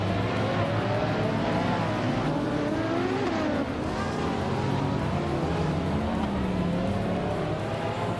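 A 2015 Ferrari LaFerrari race car in a racing video game, its engine droning steadily at high revs with gliding pitch shifts as it shifts and accelerates, continuous and fairly close, no talk.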